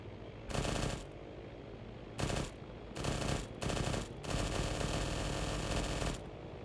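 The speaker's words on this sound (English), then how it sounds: "Yeah, that's incoming fire." Bursts of automatic gunfire in Arma 3, incoming from a house, arrive in several loud clusters of rapid shots with short gaps of quieter background between them.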